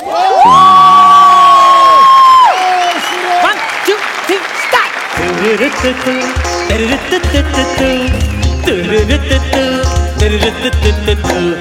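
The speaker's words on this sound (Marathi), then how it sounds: "एकदा जोरदार टाळ्या" A live studio audience at a Marathi comedy stage show cheers and applauds loudly, the crowd noise blending with sung music and a voice counting in over a steady beat.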